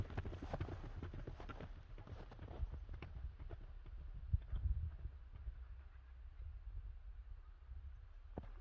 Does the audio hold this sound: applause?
no